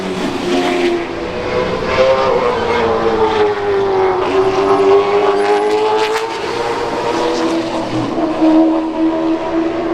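Race cars roar past on the Orange County Speedway asphalt during qualifying, loud and sustained engine drone with shifting pitch as the cars pass close by.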